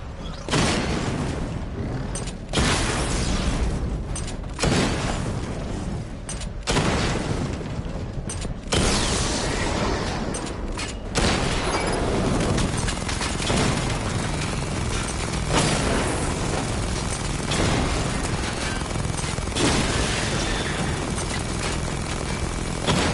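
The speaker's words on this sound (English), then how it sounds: "Charge the missile barrage to level 2 to destroy up to 4 targets at once" Missile barrage explosions in the video game Batman Arkham Knight: a loud, dense series of booming blasts and rumbling mechanical roar. The first half is heavily punctuated, and a continuous wash of noise carries through to the end.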